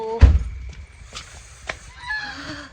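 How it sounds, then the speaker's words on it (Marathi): A loud honking quack near the start, followed by a few fainter calls and quiet rustling, with a soft chirpy sound near the end. "हे झोपत नाही का बदक"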